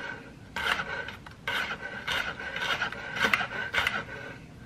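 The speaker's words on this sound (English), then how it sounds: "I'm gonna just start with chopping all of my veggies" Vegetables being chopped for a bolognese sauce in a home kitchen make a run of rough, rasping knife strokes on a board, in bursts about every half second, close and moderately loud with no talk.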